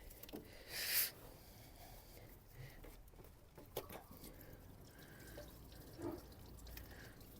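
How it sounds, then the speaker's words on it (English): Antifreeze drains from a Nissan Qashqai during a thermostat replacement, with faint, irregular drips and trickles falling into a tray amid low background noise. "obviously have to drain the antifreeze first because we're putting new one in"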